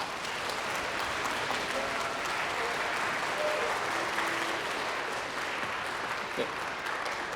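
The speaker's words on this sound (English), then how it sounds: "Let's give them a round of applause." An audience applauds the oboe section at a children's classical concert by a symphony orchestra, with steady, sustained clapping from a large hall crowd for several seconds.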